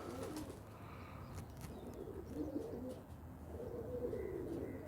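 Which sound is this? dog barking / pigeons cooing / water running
pigeons cooing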